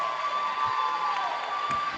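A student section roars and claps at a high school volleyball match between St. Pat's and Brady, a dense, sustained crowd cheer filling the gym at close range.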